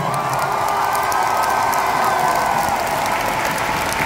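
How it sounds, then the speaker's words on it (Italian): Steady, dense applause and crowd noise from a live concert audience, with a few scattered cheers and whoops, continuous and loud throughout. "Grande applauso per loro"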